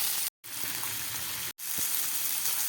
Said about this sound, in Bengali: মাছগুলোকে আমি এইভাবে উল্টে নিচ্ছি।